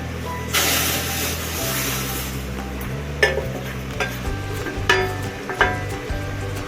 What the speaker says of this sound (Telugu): ఈ రవ్వ వేసేస్తున్నాం